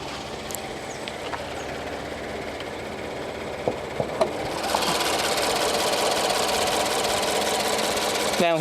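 A brand-new 2014 Subaru BRZ Limited's 2-liter flat-4 engine runs with the hood open, a steady idle hum with a few light clicks, then a louder, fuller broadband roar that holds steady to the end.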